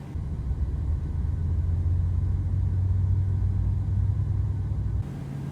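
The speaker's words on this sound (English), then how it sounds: "All right, we got engine start there." Aircraft engine spooling up in Microsoft Flight Simulator, a steady low droning rumble holding level throughout with a slight shift near the end, no voices.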